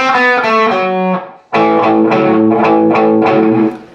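Distorted electric guitar plays a riff at full speed, a loud, fast chugging pattern of repeated notes with a brief break halfway through before the riff picks up again.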